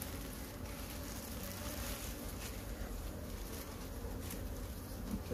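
A honeybee colony buzzes in a constant dense drone, many bees humming together at close range, steady and unbroken with no voices.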